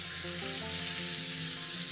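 Kangaroo steak sears in a hot pan with a steady, loud, continuous sizzle, close up and without any talk.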